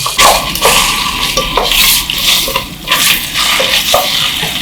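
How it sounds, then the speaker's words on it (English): Tomato paste frying and browning in hot oil for a Nigerian jollof sauce, a loud, steady sizzle close by, broken by repeated scraping stirs against the pot and no talking. "you want to grab your tomato paste, put that in the hot oil, and allow it. Yeah, allow it to cook and brown"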